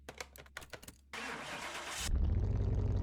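A Bolt Reptilia R6 car in a drag racing video game cranks with a few quick clicks and a starter whine, then catches and settles into a loud, deep, steady idle grumble.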